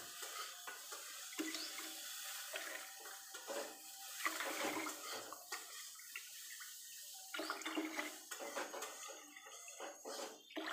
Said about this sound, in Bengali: এবার আমি জল দেব। 5 কাপ যেহেতু চাল দিয়েছি সেহেতু 10 কাপ জল দেব।